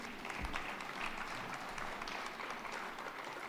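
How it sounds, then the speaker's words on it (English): Graduates at a winter graduation ceremony applauding one another, a soft, fairly distant clatter of many hands clapping steadily throughout. "can you all clap each other?"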